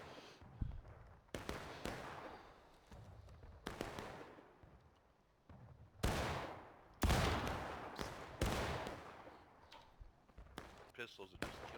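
Musket and pistol gunfire in the Civil War video game War of Rights, a string of sharp shots, some near and loud, others farther off, scattered irregularly with voices talking in between.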